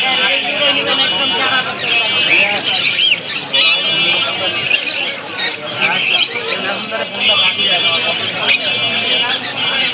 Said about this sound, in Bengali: আজকে চলে আসলাম মিরপুর পাখির হাটে, সবচেয়ে ঢাকার বড় হাট